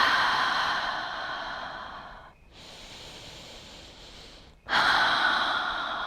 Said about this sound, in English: Breathing deep into the belly once more, releasing and freeing the breath and the body.